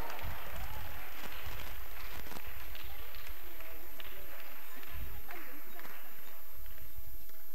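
Clapping from a gathered crowd at a vacation Bible school prize distribution, steady scattered applause with shuffling feet and voices mingled throughout.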